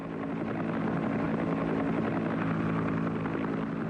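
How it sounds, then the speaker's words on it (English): A medevac helicopter flies with a steady, loud rotor and engine drone that stays constant throughout. "a wounded man could expect to be picked up by medevac helicopter in less than half an hour"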